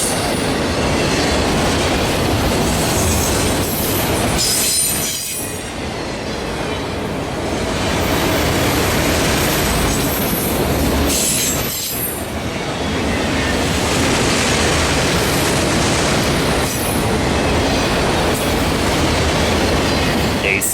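A long Canadian freight train rolls steadily past on the single main line, its cars grinding loudly and continuously over the rails with rhythmic clickety-clack of wheels and occasional squeal, close by and without pause for the full stretch.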